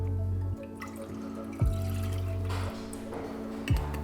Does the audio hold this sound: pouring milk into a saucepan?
yes